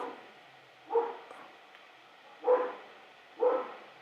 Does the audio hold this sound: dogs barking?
yes